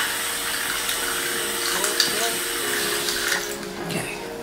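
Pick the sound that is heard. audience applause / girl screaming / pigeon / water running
water running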